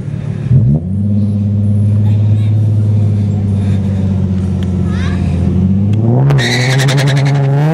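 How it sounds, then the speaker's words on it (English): A Nissan G35 with a VQ V6 engine revs hard at a Friday night test and tune drag strip, a loud, close, sustained engine drone that climbs in pitch and then surges sharply near the end. "Very distinctive engine noise, eh? That's that VQ motor, I'm telling you."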